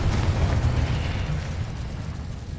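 A Confringo fire spell explodes in the Hogwarts Legacy video game as a single loud, booming burst that decays over a couple of seconds, with no speech.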